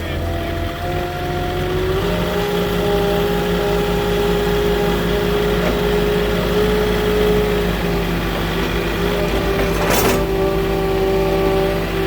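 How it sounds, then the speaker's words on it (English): A Moffett delivery truck being repositioned on a mountain site at Mountain Center, California, a steady droning engine idle with a slight rise in revs partway through and a brief clatter near the end, fairly close. "I got to move the truck real quick"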